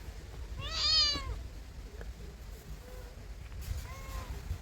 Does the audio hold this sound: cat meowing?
yes